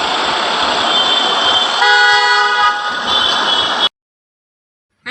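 A car pulls up close and sounds its horn, a loud sustained blare riding over road noise for a couple of seconds before everything cuts abruptly to silence.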